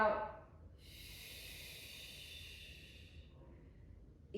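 A long, steady breath pushed out through the mouth during a Pilates exercise, a soft sustained hiss of about two seconds, close and fairly quiet, after a brief intake.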